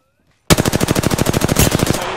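Automatic gunfire from Apex Legends: a sudden rapid burst of about eighteen evenly spaced shots, loud and close, then a brief trailing echo.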